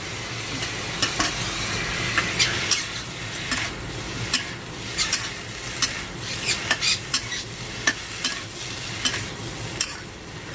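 Vegetarian crispy pork and holy basil stir-fried in a pan with a quick, rhythmic clatter and scrape of a spatula over a constant sizzle, with many sharp metallic taps.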